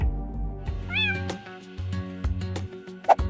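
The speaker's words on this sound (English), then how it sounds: "When a cat got stuck in the doors of a train, this security guard pressed the emergency stop button to rescue the curious kitty." A cat stuck in train doors gives a short, high meow near the start, then further brief cries amid low rumbling and clunks, with a sharp sound toward the end.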